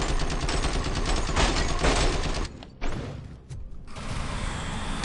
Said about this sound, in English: Standard assault rifle.